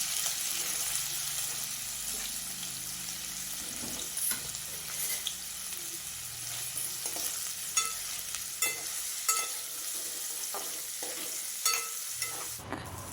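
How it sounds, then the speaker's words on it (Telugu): Paneer pieces fry in ghee with a steady close sizzle, broken by scattered clicks and scrapes of a spatula stirring them in the pan, with no talk. "మనం ముందుగా కట్ చేసుకున్న పన్నీర్ ముక్కలను అయితే ఈ నెయ్యిలో వేసుకొని బాగా ఫ్రై చేసుకోవాలి"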